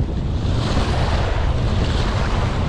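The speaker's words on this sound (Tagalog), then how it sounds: "Lakas ng agos." A strong water current and waves rush in a loud, continuous broadband wash with wind buffeting the microphone and no pauses.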